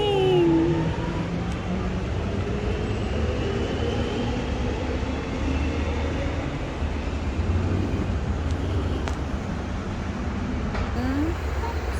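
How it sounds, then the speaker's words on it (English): A train pulls away from a station with a steady low rumble and rolling rail noise, loud and close, while people talk nearby. "The train is going."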